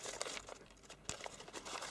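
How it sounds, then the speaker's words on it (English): Origami paper is folded and creased into a preliminary base for a five-and-four tessellation, giving soft, close crinkling and rustling with small sharp crackles, quiet and continuous, no voices. "to push the paper up"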